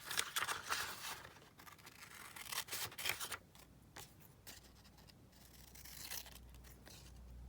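Scissors trim through packaging in a quiet room, giving a few irregular snips and crinkly rustles spread across the clip, soft and close.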